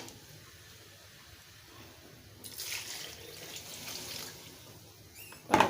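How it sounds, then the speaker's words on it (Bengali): Water pours in a steady rush into a pan of fried chicken khichuri. The noisy pour runs for a few seconds, then ends in a short clatter. "এখন দিয়ে দিব পানি।"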